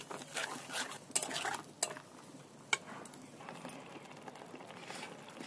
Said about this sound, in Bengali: এবার এগুলোকে সব ভালো মতো একসাথে ভেজে নেব।